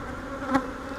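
Honey bees buzz around a pollen- and honey-laden hive frame from a starter colony, a soft steady drone with one bee passing close for a brief louder swell midway.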